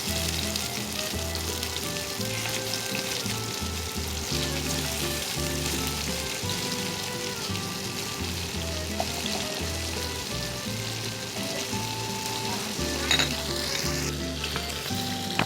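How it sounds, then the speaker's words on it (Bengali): Shing fish (stinging catfish) fries in hot mustard oil, a loud continuous sizzle with rhythmic crackling pulses and stirring, close and alone without talk. "তো তেল ভালো করে গরম হওয়ার পর এখন দিয়ে দিব শিং মাছ। মাছটা খুব ভালোভাবে ভেজে নিব।"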